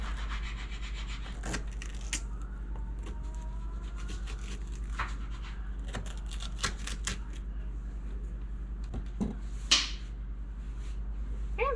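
Seeds are scraped out of a cut squash or pumpkin on a warped cutting board, heard as soft, intermittent rubbing and scratching strokes close by, with a few sharper knocks and clicks along the way.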